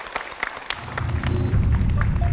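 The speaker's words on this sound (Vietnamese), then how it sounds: "Thưa quý vị, một tràng vỗ tay để 90 giây bắt đầu." A studio audience on the Vietnamese TV quiz show Vua Tiếng Việt applauds: a few sharp early claps quickly swell into a brief, steady wash of crowd clapping.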